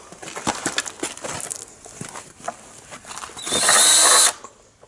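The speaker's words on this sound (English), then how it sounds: "If you hold your drill straight up and down when you get it in there, and it'll screw will come up" A power drill drives screws in several short whirring bursts, closing with one longer, louder high-pitched run near the end, set against faint background noise.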